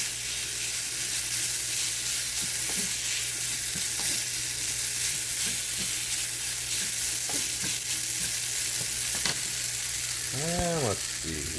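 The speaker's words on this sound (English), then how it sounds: "now we're just going to saute this for a few minutes" Noodles sautéing in sesame oil and soy sauce make a steady, broad sizzle with scattered scraping and stirring clicks, and a brief tonal whine near the end.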